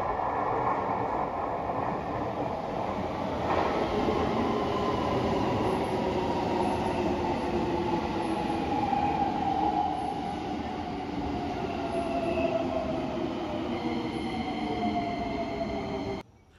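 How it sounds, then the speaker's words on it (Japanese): A Keikyu Airport Express train bound for Haneda Airport rolls past, a sustained loud rumble of wheels on rails with rising and falling tones and faint squeal, continuous until it cuts off near the end. "今やってきた列車はエアポート急行の羽田空港行きです"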